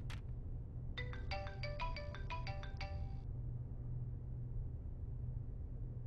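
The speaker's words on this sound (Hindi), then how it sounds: "देखो किसका फोन आया।" A phone ringtone plays a quick, bright electronic melody for a couple of seconds over a low engine-like rumble, then stops.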